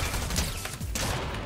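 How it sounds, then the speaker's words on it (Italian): Rapid bursts of gunfire in the video game Fortnite, dense and continuous with overlapping shots, loud and close throughout, with no talk over it. "3, 2, 1, gli sparo."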